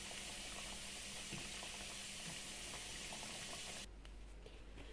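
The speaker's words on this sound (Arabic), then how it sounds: "غادي نقلي لي نوغيت ديالي كاملين" Chicken nuggets frying in oil, a dense steady hiss and crackle that runs loud and continuous, then thins to a quieter bubbling near the end.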